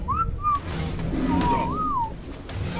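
A whistle sounds in a video game: two short high whistled notes, then a longer wavering rising-and-falling whistle, heard clearly over faint background game noise.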